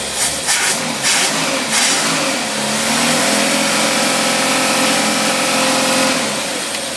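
A carbureted engine fitted with a Carter single-barrel carburetor revs up from idle and holds a steady, loud accelerating roar that eases slightly near the end, with no talking.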